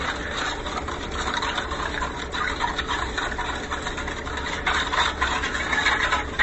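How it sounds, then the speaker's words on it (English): Steady scratchy grinding of ginger root being grated, continuous and close, with rough rasping strokes and no talking. "That grindy sound you hear, that's the ginger."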